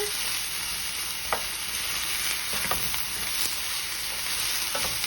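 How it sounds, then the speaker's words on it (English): Vegetables for fajitas sizzle steadily in hot oil, a constant crackling hiss with occasional sharper pops, close by and with no talking. "So we're just letting these sizzle"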